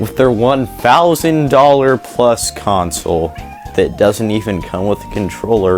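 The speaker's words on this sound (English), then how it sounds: "excuse my cat meowing." Someone talks steadily and close up while a cat meows repeatedly in the background.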